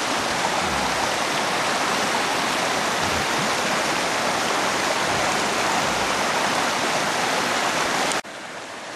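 River water rushing steadily at a gold prospecting site, a dense unbroken hiss of flowing current held at constant strength until it drops off abruptly near the end.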